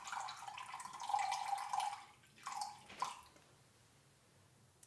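Vinegar and water are poured for a shashlik marinade, a close splashing trickle in two or three short pours that fades to quiet.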